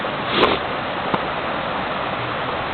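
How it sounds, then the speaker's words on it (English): A forest creek flows right beside a campsite tent in Jones Gap: a steady, close rushing wash of water that stays even from start to finish, with one or two faint clicks. "there's a great view again of the creek right here next to my tent"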